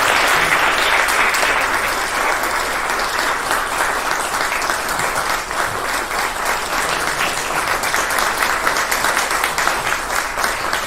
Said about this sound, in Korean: 교직원 여러분께서는 힘찬 박수로 답하여 주시기 바랍니다.